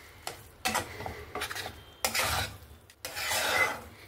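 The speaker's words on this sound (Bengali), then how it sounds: "এখানে আমি একদম স্লো গ্যাসেতে ভালো করে নাড়াচাড়া করে সুজির হালুয়াটা বানিয়ে নেব" Semolina halwa stirred in a pan over low gas, a spoon scraping and rasping through the grains in uneven strokes with a soft sizzle, close and fairly loud, no voices.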